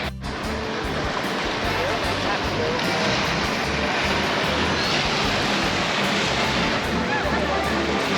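Ocean waves wash continuously onto a beach in a loud, close, steady surf roar with no clear breaks.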